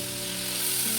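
Chicken drumsticks, leg pieces coated in a malai marinade, fry on a tawa over medium flame, giving a steady, close, even sizzle with a faint hum underneath and no voices.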